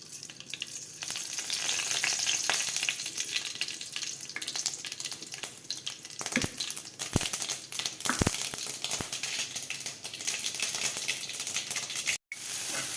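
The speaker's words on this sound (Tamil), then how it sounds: "அதில் எண்ணெயை ஊற்றி கடுகு வெடிக்க விட்டு" Mustard seeds sputter and crackle steadily in hot oil close by while cooking thuthi keerai, a dense fizzing with occasional sharper pops and no talking.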